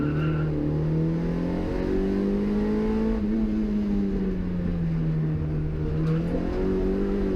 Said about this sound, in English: So that was a lap of the Blyton Park Rallycross circuits, courtesy of Lee Keeler.